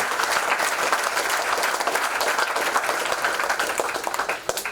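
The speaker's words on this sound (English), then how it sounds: "So they deserve a round of applause also." A crowd gives a loud, dense round of applause at the opening of the renovated Scout Room at Royal College, Colombo, many hands clapping steadily and close for nearly five seconds.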